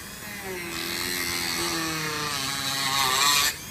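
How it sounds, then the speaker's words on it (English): A high-speed Dremel rotary tool grinds out a motorcycle bar end on a Harley-Davidson Iron 883, a steady whining buzz running unbroken for about three seconds before cutting off abruptly. "So we're going to Dremel this out"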